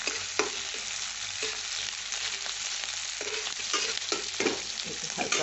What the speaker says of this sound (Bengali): নুন দিয়ে আমি এটা একটু ভাজা করে নিই সামান্য